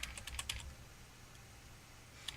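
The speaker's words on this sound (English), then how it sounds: "so I'll just count up on the keyboard here" Computer keyboard keys tapped while a password is entered during an online enrollment, a short cluster of quick clicks at the start, then a pause and one more keystroke near the end, close and fairly quiet.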